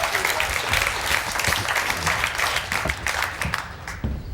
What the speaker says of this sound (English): You really need to clap for it